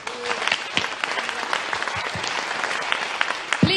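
An audience applauds after a speech, steady dense clapping filling a hall with a few louder nearby claps and faint crowd murmur, ending with a brief sharper sound near the end.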